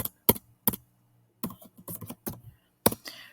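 Sparse keystrokes on a computer keyboard tap in short clusters with pauses between them, close and crisp in a quiet room.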